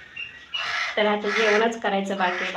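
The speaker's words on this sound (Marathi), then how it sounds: "कावळे भरपूर आले तर ते चपाती खायला लागले ना" Crows caw in squawking bursts outside a home while they peck at chapati, loud and close, overlapping someone talking.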